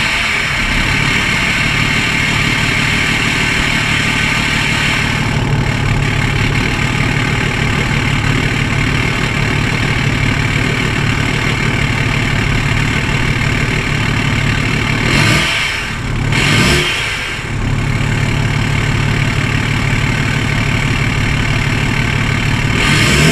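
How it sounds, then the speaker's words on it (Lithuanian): A BMW E61 530d xDrive diesel fitted with a straight pipe idles loudly after a cold start, a steady rough rumble throughout with a brief dip and surge partway through. "tai gal nufilmuosiu cold startą su paipu"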